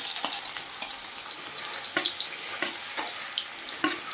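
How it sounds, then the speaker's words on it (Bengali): Onions sizzling in hot oil for a mutton curry, a continuous close crackle broken by several sharp clicks and scrapes of stirring, with no voices. "পেঁয়াজটাকে ভালোভাবে আমি লাল লাল করে ভাজব"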